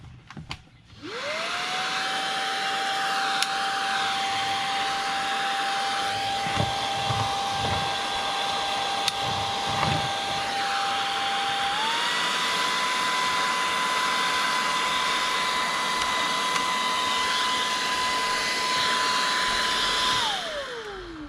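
A MOOSOO cordless brushless cyclone handheld vacuum cleaner spins up to a steady, loud high-pitched whir, shifts to a slightly higher speed partway through, then winds down at the end, with brief clicks and handling noises but no talking.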